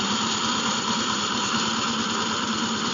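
A ride-on tractor engine drives through a rice field at harvest, running as a constant mid-pitched drone with a rough vibrating texture, no voices heard.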